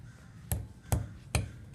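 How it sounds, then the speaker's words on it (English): A hammer strikes a piece of steel tubing to flare its end, giving four moderate, evenly spaced metallic blows, each ringing briefly before the next. "I'm going to use this hammer because this is a piece of steel"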